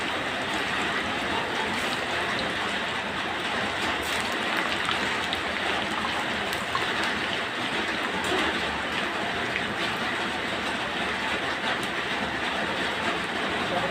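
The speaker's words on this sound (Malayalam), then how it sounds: "നല്ല മഴയാവുന്നത്" Heavy rain pours down in a steady, dense broadband hiss that stays even and unbroken throughout, with no voices.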